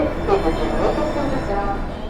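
A New York City subway train in motion, a loud continuous rumble with metallic rail hum and faint squeal, heard from close by without speech.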